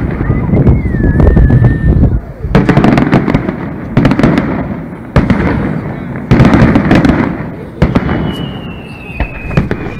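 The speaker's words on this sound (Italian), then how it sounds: "Arrivato alla Porta Marina, i fuochi d'artificio a lui dedicati." Fireworks for the San Sebastiano saint's procession at Porta Marina, a rapid series of loud bangs and crackling bursts in irregular clusters over a continuous crowd din, with a whistling rocket rising near the end.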